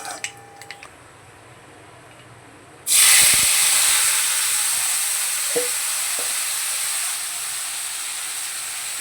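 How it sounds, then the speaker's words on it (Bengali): Nigella seeds hit hot oil in a kadai with a sudden loud sizzle. The crackling hiss then settles into a steady, slowly fading fry after a few quiet clicks at the start. "কালো জিরে ফোড়ন দিচ্ছি"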